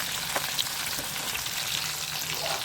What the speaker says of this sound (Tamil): ஓரளவுக்கு மீடியமான ஃப்ளேமில் வச்சு அப்படியே கோல்டன் ப்ரௌனாக பொரித்து எடுத்துக்கலாம்